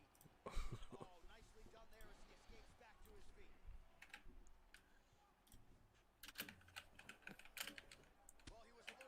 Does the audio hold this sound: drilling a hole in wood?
no